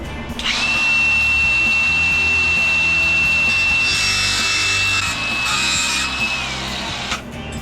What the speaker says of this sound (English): if we cut these bolts a little bit shorter, that'll give us enough room, so let's do that